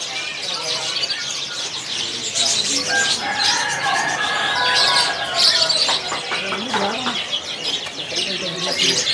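Many F2 canaries sing together at a bird market kiosk, a dense, continuous chorus of bright chirps and trills with occasional wing flutters and soft background chatter from people nearby.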